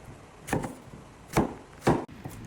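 A knife chops through an eggplant with a damaged spot, trimming its sides: three distinct sharp cuts land about a second apart, close and fairly quiet against a faint background.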